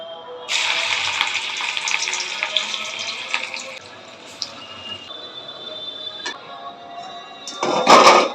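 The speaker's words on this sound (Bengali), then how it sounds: "মা তেল গরম হয়ে গেছে আর দেখো একটু চেপে চেপে মা বড়াগুলো ভাজবে" Prawn fritters fry in hot oil, a steady bright sizzle that swells and eases over several seconds, punctuated by a few clinks and a sharp clatter near the end.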